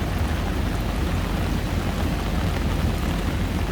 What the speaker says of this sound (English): Sound loud, it's raining.